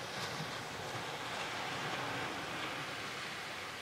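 Atlantic Ocean waves at the shore, a continuous broad wash of surf mixed with some wind noise, steady and moderately faint with no distinct breaking crests and no voices.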